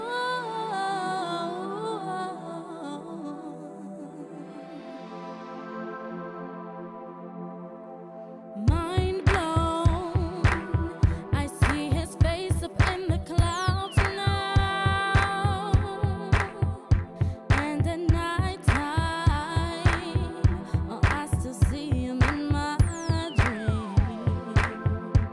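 A recorded song mix with parallel-compressed drums plays: soft sustained tonal music first, then a loud full band enters with punchy, steady kick and snare hits driving a regular beat.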